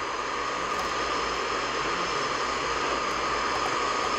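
An airplane flying in a Lego video game: a steady, loud engine drone with a hissy, noise-like roar that holds constant throughout, with no talking.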